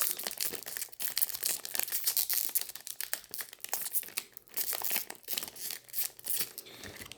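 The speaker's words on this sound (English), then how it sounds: "More difficult to open than I expected." Plastic wrapper of a Palworld trading card pack, proving hard to open, crinkles and tears in close, continuous bursts of rustling and crunching with short pauses between handfuls.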